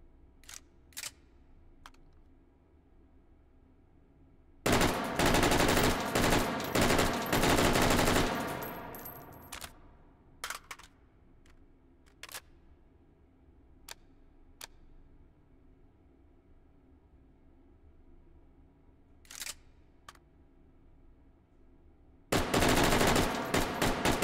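Bullpup rifles fire in bursts inside the VR shooter Hot Dogs, Horseshoes & Hand Grenades: sharp isolated shots, then a loud sustained volley, more scattered cracks, and a final rapid burst, close and clear.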